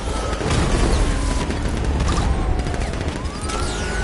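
Dense, continuous video-game gunfire with booms and mechanical clatter, loud and close throughout the whole stretch, with no clear talk over it.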